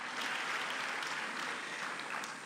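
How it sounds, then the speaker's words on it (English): Academic open day audience giving a sustained round of hand clapping, a dense even wash of many hands filling a large seated hall, with no talking. "Let's appreciate them with a hand clap."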